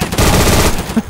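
Rapid machine-gun fire in a World War II-style video game battle against German soldiers, loud and close, with dense overlapping bursts packed into about a second.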